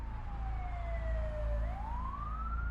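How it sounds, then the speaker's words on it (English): An ambulance siren wails in rising and falling sweeps over a low, steady engine and road rumble, close and continuous, with no voices. "the EMTs loaded Mark into the back of the ambulance and sped off to the hospital"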